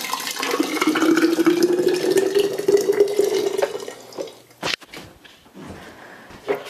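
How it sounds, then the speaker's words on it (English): Aronia jam and brandy ingredients pour steadily into a half-gallon glass jar with a rising gurgling tone, then stop, followed by a few clinks and small splashes. "pour everything into that jar."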